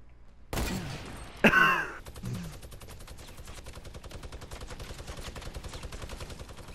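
Pistol gunfire in Fortnite Battle Royale: two sharp loud shots ring out with echoing tails, followed by a steady rapid patter of quieter distant shots continuing underneath.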